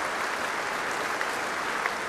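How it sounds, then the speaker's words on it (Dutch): A choir on a concert stage claps for the evening's soloists in a Handel performance, a steady dense wash of applause with no gaps or talk. "En het koor klapt op zijn en haar beurt voor de solisten van vanavond."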